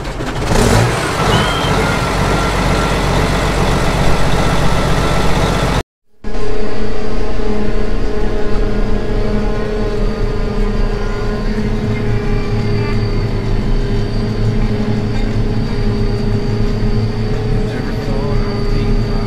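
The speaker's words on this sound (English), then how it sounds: "So we finally got the chopper back and going." A farm forage chopper running after a fuel filter change, its engine a loud, steady mechanical roar with a constant drone and whine; the sound cuts out briefly, then resumes at full volume and runs on evenly.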